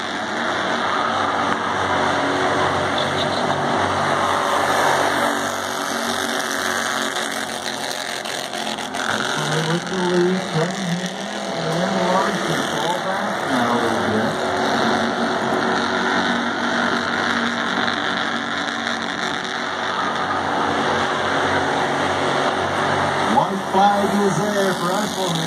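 Bandolero race cars compete on the Las Vegas Bullring short track, their small engines droning steadily and continuously through the whole stretch with a race commentator talking over them.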